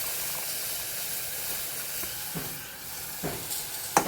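Chicken curry with onion masala and potato being stirred in a hot pan: continuous bright sizzle and hiss, with a few scraping stirs of the spoon near the end.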